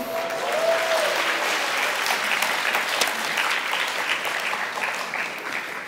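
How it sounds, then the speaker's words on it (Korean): Steady audience applause at a church community service event, greeting a prize winner called up from the crowd; dense, even clapping fills the whole stretch at close range, with no talk over it. "다시 한번 박수 주시고요"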